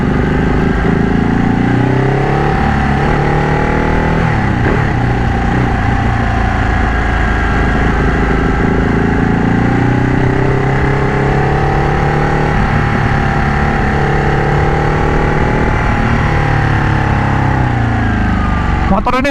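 Modified Ducati Panigale 1199 Tricolore sport bike engine while riding, a loud, continuous close-up drone with shifting revs and throttle changes, a voice speaking over it at times.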